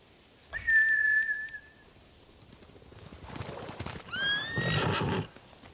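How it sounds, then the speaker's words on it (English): Samurai horses in the game Ghost of Tsushima give a long whinny up close, then a burst of hoofbeats and a second, layered neigh as they bolt away, loud and without talk. "Bastards scared off the horses."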